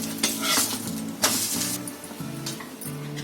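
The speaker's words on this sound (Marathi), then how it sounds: "इकडे आपला डोसा 1 साइडेड एकदम चांगला भाजलेला आहे" Dosa batter sizzles and crackles on a hot pan at close range, with steady frying hiss and a few sharp scraping or clattering bursts.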